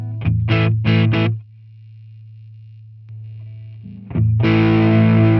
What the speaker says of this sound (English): You can hear kind of what the overdrive pedal is at.